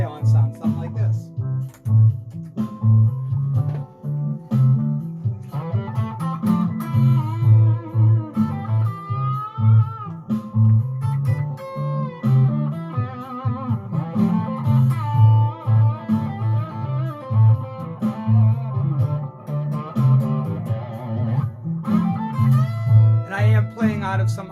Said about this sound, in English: put a little distortion delay on,